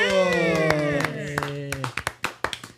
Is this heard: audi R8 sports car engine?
no